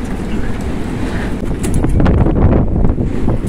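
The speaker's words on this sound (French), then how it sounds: "Ça c'est le vent continu. Et de temps en temps, il y a des rafales bien plus fortes." Strong wind roars and buffets against the microphone on Lanzarote in the Canary Islands, building into a heavier gust partway through, loud and rushing with no voices.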